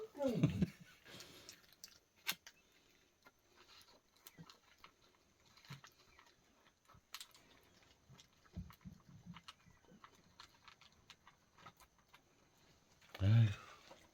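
A dog eating its food, with soft wet chewing and crunching scattered through the clip at close range, plus louder handling bursts at the start and end.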